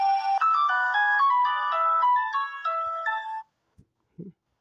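A phone ringtone plays a bright, synthesized melody of quick stepping tones for about three and a half seconds, then stops, followed by two faint soft clicks.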